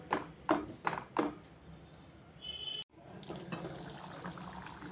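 Water pours and splashes into a pot of egg masala curry in a few short bursts, then a longer steady trickle follows after a brief silence.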